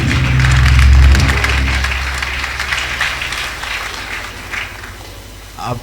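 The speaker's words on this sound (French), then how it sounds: "Acclame pour le Seigneur Jésus." A church congregation bursts into loud, dense applause for the Lord Jesus that gradually thins and fades over several seconds.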